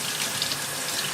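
Tap water runs steadily from a kitchen faucet into a sink while spinach is rinsed, a continuous close splashing hiss with no talking.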